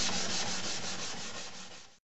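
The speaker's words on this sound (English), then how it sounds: "take a Scotch-Brite pad and just get some of the crunchiness off, because this dries a little bit rough" A Scotch-Brite pad rubs briskly over a wooden bedside table finished with stain and dried milk paint, a steady close scuffing that fades slightly before a sudden stop.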